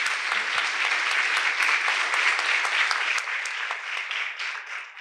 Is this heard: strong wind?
no